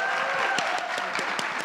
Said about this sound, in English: I just need y'all to give her a round of applause.